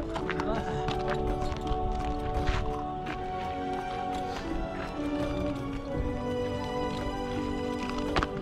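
Horse hooves clip-clop steadily through a ride in Kabul, Afghanistan, a busy rhythmic clatter with background voices and music talking over it throughout.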